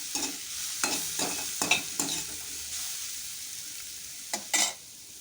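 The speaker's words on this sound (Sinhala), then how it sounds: "මම මේ වෙනකොට කඩල ටික හොඳින් තඹගෙන තියෙන්නේ" Chickpeas stir-fried in oil in a pan with pepper, a soft sizzle broken by a string of scraping stirs at uneven intervals, close up with no voices.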